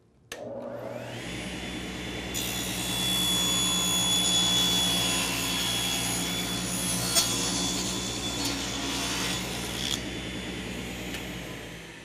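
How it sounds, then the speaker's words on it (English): Table saw blade cutting through the base of a wooden 90-degree crosscut sled, a loud sustained whine that spins up, holds steady through the cut for several seconds and then winds down, with no voices. "The idea now is to raise the saw blade and make one cut from the back all the way through to the front."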